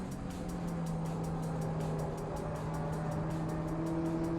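A Subaru BRZ tS runs on track at Laguna Seca, its engine a steady, moderately loud drone holding near-constant pitch with a rising harmonic late on, under continuous road and wind roar.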